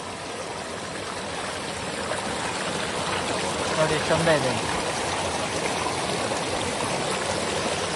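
Steady rushing of water flowing over a small makeshift dam of sacks in a forest stream during the rainy season fills the background while a person speaks briefly over it.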